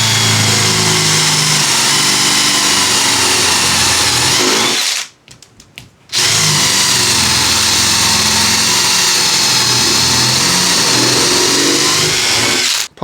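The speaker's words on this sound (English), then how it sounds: "we're just going to stick a 13mm drill in" Electric drill with a 13mm bit boring into a wooden table leg, whining loudly and steadily in two long runs separated by a brief pause.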